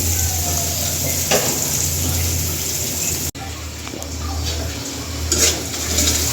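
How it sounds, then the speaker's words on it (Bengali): Chopped onions fry in very hot oil with a bay leaf, giving a steady close sizzle and crackle with a few brief stirring scrapes. "পেঁয়াজটা ভাজা হতে থাকুক কারণ মশলাটা বেটে নি"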